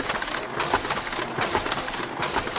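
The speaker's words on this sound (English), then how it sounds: "That's a scanner scanning its little scanner heart out." A document scanner feeds pages through at a law clinic, a steady mechanical whirring rush with soft periodic swells as each sheet passes, close and continuous.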